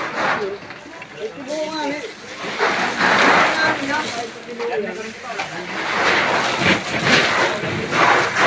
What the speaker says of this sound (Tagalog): Ito, nag-uulan pa.